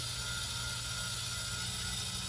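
A tumbler turner slowly spins an epoxy glitter tumbler while it dries, giving a steady low motor whir and faint continuous mechanical hum with no change or pauses.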